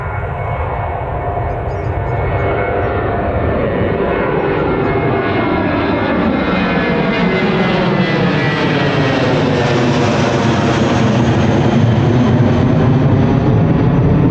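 A Boeing Dreamliner airliner lands at Newcastle Airport, its engines roaring loud and steady throughout as a broad, rising whine builds with the approach, with no talk over it.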